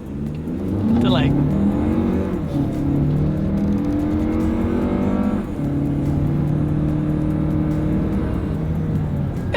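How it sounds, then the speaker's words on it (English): A 2026 Toyota Highlander with a turbocharged four-cylinder accelerates hard along a straightaway, its engine note rising steadily, settling, then climbing again as it gains speed, with a voice speaking over the drone. "let's see how quickly we can get our new 2026 Toyota Highlander here up to speed"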